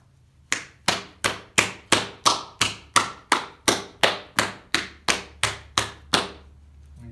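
Clay is hammered flat on a cloth-covered table while shaping a pottery bowl: about fourteen evenly spaced, firm thuds land roughly every half second, close and dry, with no talking.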